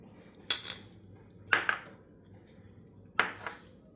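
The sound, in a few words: kadhai pan placed on gas stove for roasting dry fruits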